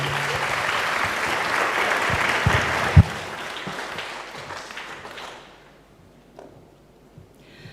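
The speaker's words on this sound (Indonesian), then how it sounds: "Mari kita beri aplaus yang sangat meriah." Audience at a public lecture on Indonesian diplomacy for Palestine applauds to welcome the speaker, with steady dense clapping that fades away over several seconds.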